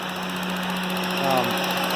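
A Honda K24 engine swapped into a Honda Insight idles with its new exhaust fitted, a steady close, continuous drone with a faint mechanical tick from the fuel injectors running throughout.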